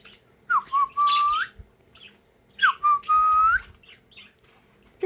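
Sunny, a pet parakeet, lets out two excited bursts of bright rising whistles mixed with squawky chatter, close and loud, separated by brief pauses.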